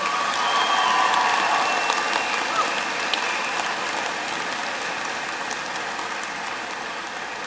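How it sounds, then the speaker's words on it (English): Steady applause from a graduation audience at a Western Wyoming Community College commencement, sustained and dense across the whole stretch with a faint hint of cheering mixed in. "Let's give this group a big round of applause."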